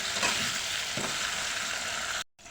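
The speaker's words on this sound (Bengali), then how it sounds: "চিকেনের মশলাটা ভালো করে ভেজে নিচ্ছি" Steady sizzling of chicken spices frying in a pan, with a couple of faint stirring scrapes, cutting out abruptly near the end.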